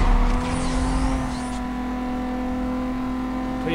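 A Toyota Supra's engine in the racing game Need for Speed Most Wanted holds a steady, loud, buzzing drone, with a brief rising sweep early on and no talk.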